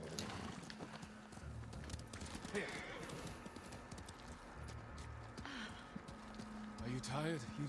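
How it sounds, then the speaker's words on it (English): A horse's hooves clip-clop in a steady galloping rhythm in the samurai video game Ghost of Tsushima, with game music and voices talking over it. "Need to grab the horse."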